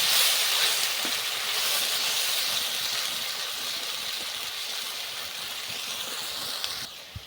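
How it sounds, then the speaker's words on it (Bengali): Onion gravy frying gently in a pan for a jackfruit and prawn curry, a continuous broad hiss and sizzle, strongest at the start and easing slightly, with a few faint clinks of stirring near the end. "পেঁয়াজ গ্রেভিটা প্রথমেই দিয়ে দিচ্ছি। দিয়ে হালকা করে ভেজে নেব।"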